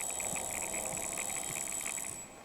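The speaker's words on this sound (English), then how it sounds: "This is the sound of the game saying, make your move now" Warning signal in the video game Vigor, on the Gronthiem Valley map in late spring: a steady, repeating pulsed electronic tone beneath a high, constant whine, continuous and fairly loud, fading at the end.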